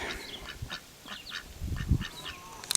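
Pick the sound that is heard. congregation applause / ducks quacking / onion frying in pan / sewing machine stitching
ducks quacking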